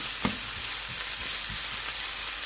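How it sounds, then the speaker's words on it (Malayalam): Chopped onions with salt sauté in a pan for a grilled fish masala, giving a steady close sizzle and hiss with a few soft low knocks of stirring, no talking. "എന്നിട്ട് നമുക്ക് ഈ സബോള നന്നായിട്ടൊന്ന് വഴറ്റാം."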